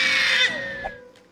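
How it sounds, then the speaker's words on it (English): A two-year-old girl screams loudly and at high pitch at close range, one sustained shrill shriek that trails off into quieter whining. "Those screams are getting louder."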